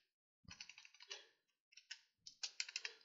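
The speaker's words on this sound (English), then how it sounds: "all we need to do is type the following command" Close, quiet typing of a terminal command on a Mac computer keyboard: quick bursts of light key clicks in two runs separated by a short pause.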